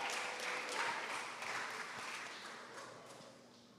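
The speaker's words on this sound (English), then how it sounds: "Please clap and cheer them on." Audience applause with scattered cheers at a primary school graduation, a steady broad wash of clapping that slowly fades over a few seconds, fairly distant and soft.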